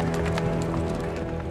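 Horses' hooves pound continuously during a Roman cavalry drill reenactment at Hadrian's Wall, with a dense, close rumble of galloping and no pauses.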